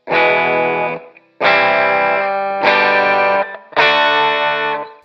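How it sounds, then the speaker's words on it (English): Four loud strummed chords on a distorted electric guitar, each ringing out for about a second before the next strum, with no voices. "First one is play some open chords."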